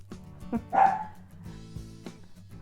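A dog barks indoors a few times, close by: one sharp loud bark followed by softer yips and whimpering sounds, with no talking over it.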